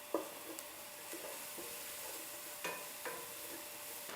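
A pot of broccoli and avocado soup being stirred: soft scraping strokes and a few light knocks against the pot, quiet and close over a faint simmering hiss, with no voices.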